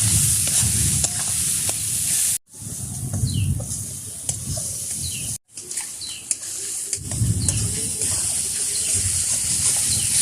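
Ground spices with turmeric, Kashmiri chilli powder and bay leaf fry in a pan, hissing steadily close by. Stirring scrapes come in bursts, and two brief cuts of silence break the sound.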